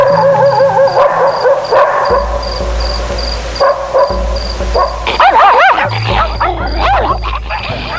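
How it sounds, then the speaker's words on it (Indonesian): A pack of dogs yelps, howls and barks loudly and close, with overlapping high whining cries and sharp barks over a low rumbling background, used as a sound effect. "tiba-tiba terdengar suara mendesit, diikuti dengking anjing-anjing milik Pak Hartono tetangga."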